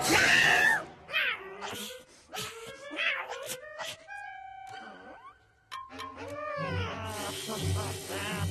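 A cartoon cat from the animated series Kid vs Kat meows and yowls in several drawn-out, wavering cries. Short bursts alternate with pauses, and voices talk around them.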